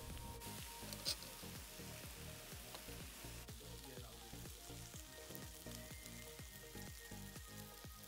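Korean beef short ribs fry in a hot pan with a dense, steady sizzle and a series of rhythmic popping spatters, close and continuous, with no talking.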